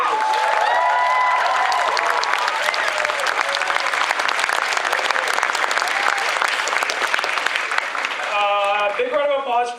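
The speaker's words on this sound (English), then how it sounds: "Big round of applause for the organizers." Loud, sustained applause from a convention crowd at a cosplay contest during Forest City Comicon 2015 in London, Ontario, with dense clapping and some cheering that fades near the end.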